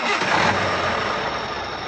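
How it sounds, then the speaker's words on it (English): A truck engine turns over and settles into a steady, loud running rumble, continuous for about two seconds with no voices. "Joe started the engine, and the journey began."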